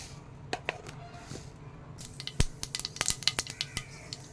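Mustard seeds spluttering in hot oil for a Kerala fish theeyal, a burst of sharp, scattered pops and crackles that grows denser toward the end, close and fairly quiet.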